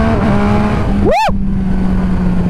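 A loud MV Agusta Superveloce motorcycle engine roars steadily, then a sharp rising whine sweeps up briefly before the droning resumes, like a hard rev close by.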